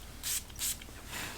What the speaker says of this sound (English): Go ahead and spray a little bit more on my hand.